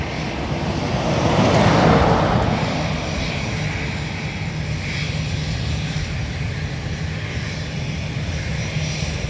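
A Turkish Airlines plane takes off from runway 28R at Dublin Airport, its engine roar swelling to a peak early on and then holding as a steady, distant rumble.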